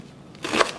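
A knife cuts through leeks into strips on a board, a single short crisp chop near the end after a quiet lead-in.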